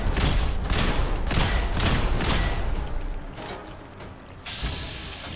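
Gunfire in the video game Fallout 4 Nuka World, a loud, dense burst of rapid repeated shots with mechanical clatter that fades toward the end as a brighter tone enters.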